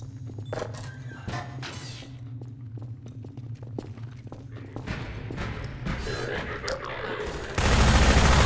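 Gunfire from an allied fighter in the video game Half-Life 2, a rapid clatter of shots and sharp cracks continuing under a low steady hum, swelling into a louder, denser burst of fire near the end.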